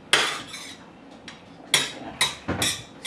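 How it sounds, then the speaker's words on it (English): A spoon scrapes and clinks in a bowl while poultry seasoning is stirred into cooked turkey meat: several short, close scraping strokes, separated by brief pauses, with no voices. "Stir that poultry seasoning into my remaining amount of turkey meat."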